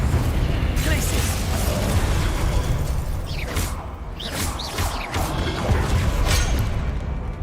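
Spell blasts and bursting explosions in the video game Hogwarts Legacy, a dense run of pops, booms and whooshing casts over a constant mechanical clatter, loud and close, with a player's voice shouting over them.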